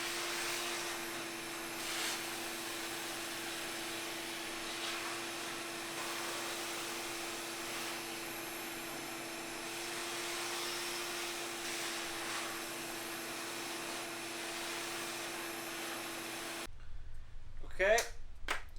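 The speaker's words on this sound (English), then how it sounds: "it is now swept up in here thanks to the shop vac." A shop vac runs steadily, vacuuming the floor of a van being converted, a constant loud whine and hum that cuts off near the end, followed by a few scrapes and knocks.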